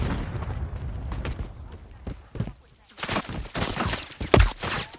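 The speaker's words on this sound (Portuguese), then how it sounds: "Tô levando tiro!" Rapid bursts of automatic gunfire and shots crackle through Call of Duty: Modern Warfare 3 multiplayer on PS5, with a loud boom near the end, set against steady battlefield noise.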